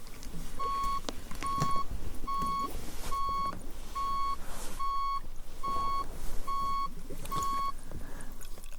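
A series of short, evenly spaced electronic hearing-test beeps, about nine in a row, clear over a steady background hum.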